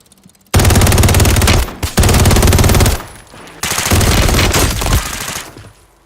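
Loud, rapid machine-gun bursts from a played video, in three long volleys separated by brief gaps, harsh and close with no voices.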